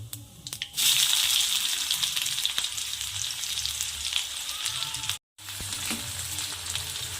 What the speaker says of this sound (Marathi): आता जिरे ॲड करते अर्धा चमच आणि बारीक कट केलेला कांदा